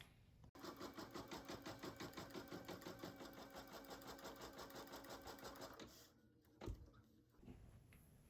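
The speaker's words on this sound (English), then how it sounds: "I'm gonna hold it while I take it to the machine and do the tack down stitch" An in-the-hoop embroidery machine sews a tack down stitch on fabric, a steady close mechanical rattle of rapid needle strokes for several seconds, then it stops, leaving a brief clunk and quiet.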